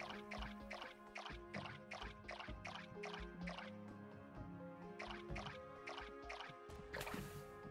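Watering crops on a large farm in the video game Core Keeper, with a run of short, evenly spaced splashy drips and pours repeating over steady game music, close and moderately loud.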